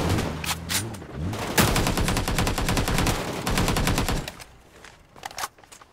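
Distant gunfire in the mobile battle royale New State Mobile: long rapid bursts of automatic fire with a few sharper single shots before and after, moderately loud, with no talking.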